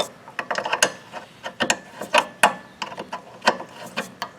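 Rapid ratchet clicks from loosening a bolt on a Ford Focus during rear trailing arm replacement, coming in quick uneven bursts with short pauses, close up and fairly loud, with no talking.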